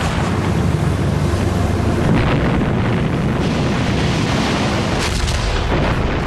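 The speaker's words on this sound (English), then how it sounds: "German artillery and machine guns opened fire." German artillery and machine gun fire at a D-Day beach landing, with a dense, continuous roar of blasts and rattling gunfire that stays loud and overwhelming throughout, without voices.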